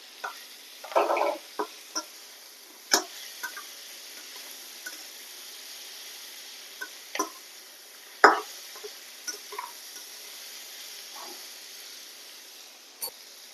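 Fried lentil dumplings (bori) go into a pan with spinach curry spices and are stirred: scattered scraping and clacking strokes, a cluster early on and a sharp clack later, over a thin steady hiss.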